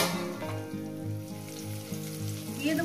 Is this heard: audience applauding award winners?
no